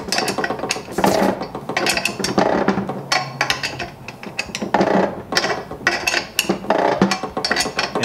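Dense metallic clicking and ratcheting as a tool draws the crankshaft of an 85-89 Honda 250R two-stroke motor into its center cases, repeated bursts of clanks and gear-like clatter, close and steady, with no talk.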